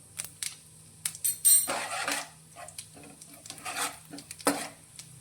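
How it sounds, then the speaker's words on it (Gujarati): Cumin and fennel seeds sizzle and crackle in hot oil with asafoetida added, for a kachori filling, a bright crackling hiss with several sharper pops and a few utensil scrapes, fairly close, no talk. "જીરું અને વરિયાળી થોડા ફૂટે એટલે અંદર આપણે થોડી હિંગ એડ કરીશું"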